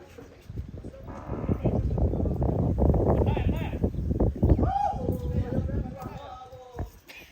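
Cattle moo and low close by at a vaquejada practice arena amid shuffling and background chatter, with a longer bellow near the middle.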